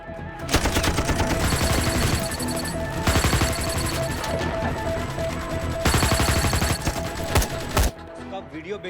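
Heavy film gunfire during a Mumbai attack scene: dense, loud bursts of automatic rifle shots rattling almost nonstop, with sharper cracks and short gaps, layered over a busy soundtrack.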